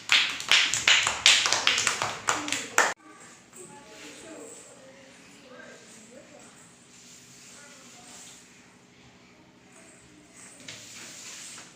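Children clapping together during a classroom activity, a fast burst of close, sharp hand claps lasting a few seconds, then quieter room sound with voices, and brief clapping again at the end.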